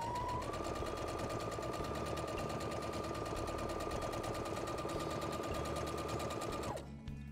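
A sewing machine stitches fabric for a cloth diaper holder, running at a fast steady whirring rhythm with a sustained motor whine for several seconds before stopping abruptly; close and continuous, no speech.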